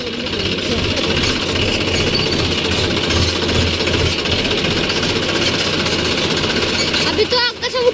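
Heavy tractor engine laboring hard as it pulls a stuck trolley, a loud steady pounding roar held throughout while people talk over it nearby.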